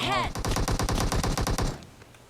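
Automatic weapon fire in the mobile battle royale game PUBG Mobile: a loud, rapid burst of shots at a steady rhythm lasting over a second, then a quick fade.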